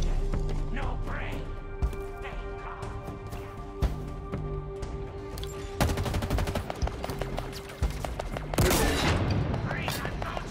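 Halo Infinite campaign combat: rapid automatic gunfire in bursts, with loud booms and crashes, heavy and close, while voices speak over the fighting.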